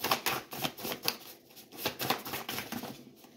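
Index cards handled and shuffled during a pick-a-card reading, a run of quick papery flicks and soft riffles close by with no talk over them.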